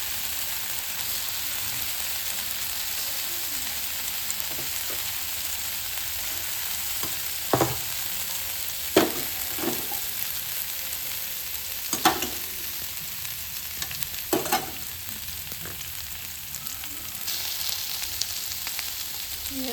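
Fish frying in oil in a pan, a steady hissing sizzle throughout with a few sharp clinks and pops of utensils mid-way, close and unaccompanied by speech.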